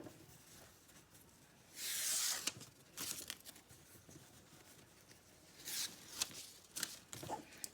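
Stabilizer or backing material is torn away while making an in-the-hoop bag lining, with a couple of quick ripping bursts among soft rustling and handling noises, quiet and close.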